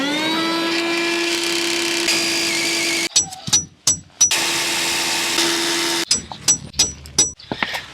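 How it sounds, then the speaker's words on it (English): A power drill bores into concrete to set anchors, running in a long steady whine, then a series of short bursts and pauses before another sustained run and more choppy pulses, close and loud. "we're going to drill into the concrete, put our concrete anchors in"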